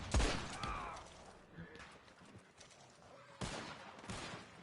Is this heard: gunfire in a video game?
yes